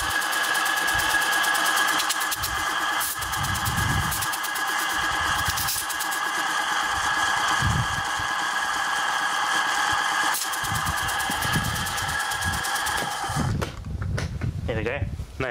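A three-phase electric motor driving a compressor runs with a steady buzzing whine and mechanical clatter, close and loud, with someone talking over it before the running changes near the end.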